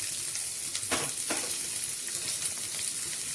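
Chopped onions frying in hot oil for Kolhapuri chicken, giving a dense, bright crackling sizzle with a couple of brief scraping bursts from stirring.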